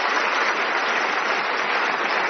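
Studio audience applause for a contestant on a radio general-knowledge quiz, a dense, even burst of clapping held at steady volume for the whole short stretch.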